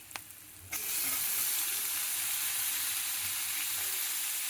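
Mutton with sorakaya (bottle gourd) sizzles loudly in a pan, a steady close frying hiss that jumps in abruptly after a brief quieter moment and carries on unbroken.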